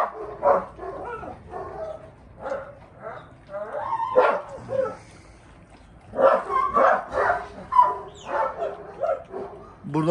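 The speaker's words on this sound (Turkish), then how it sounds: "dışarıda köpek var" Dogs, adult and puppies, barking and yipping in short bursts outdoors, some whimpers mixed in, with people talking over and between the barks.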